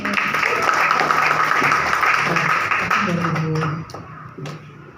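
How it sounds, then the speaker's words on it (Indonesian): An audience at a student body (BEM) candidate debate at a nursing academy claps, a steady wash of applause from a crowd that fades out near the end while a voice speaks briefly over it. "Tepuk tangan."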